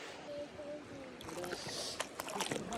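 Legs wade shin deep through a cold river in the wilderness, splashing and sloshing water close by, with light trickling and a voice speaking briefly over it.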